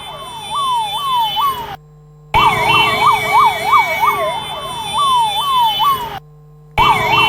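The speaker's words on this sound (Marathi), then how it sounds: "आपण पाहतोय कशा पद्धतीने अँब्युलन्स या वेगानं जात आहेत" Ambulance sirens wailing in a fast rising-and-falling cycle as emergency vehicles rush to a river bridge collapse, loud and close, with two brief cuts of silence between stretches.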